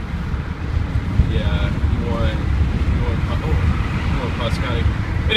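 Inside a BMW M5 E60 cruising on a highway in sixth gear at about 67 mph and 2500 rpm, a steady low road and engine drone mixes with wind rush while someone talks.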